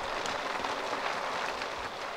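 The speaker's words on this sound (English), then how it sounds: "And it is hailing outside." Steady rain falling in The Sims 3 Pets during a hailstorm, a dense, even hiss that holds at moderate loudness for the whole stretch with no other sounds standing out.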